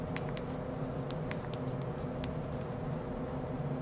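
Soft, quick clicks of Motorola Droid 3 phone keyboard keys being tapped in an irregular typing rhythm, close by, over a steady low background hum.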